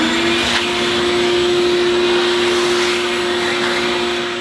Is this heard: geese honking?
no